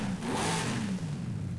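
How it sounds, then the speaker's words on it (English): Brabham BT62 supercar exhaust in Forza Horizon 5, a 700-horsepower engine with a cammed note, revving steadily and loudly close by with a wavering pitch and no speech. "It even has an exhaust note."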